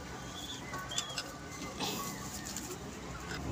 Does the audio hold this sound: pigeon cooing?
yes